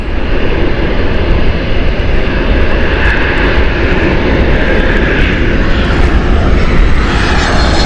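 Icelandair Boeing 737 MAX taking off at Gatwick, a loud, close, continuous jet-engine roar with a deep rumble that stays strong and steady throughout, and no voices.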